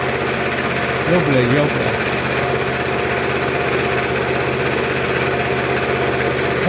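A lathe runs a steady, dense machining drone while taking a spin pass on a custom Harley-Davidson Sportster twin rail swingarm part, with someone briefly speaking over it.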